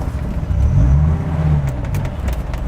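A Dodge Viper's engine rumbles low and loud while the car creeps over an obstacle, the tone rising briefly as it strains up and over, then settling to a steady idle-like growl.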